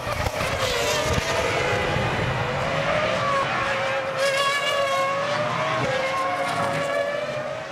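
Ferrari Formula 1 race cars scream past at full speed during a 2002 race, a loud, continuous high-pitched engine wail that rises and falls as the cars pass close by.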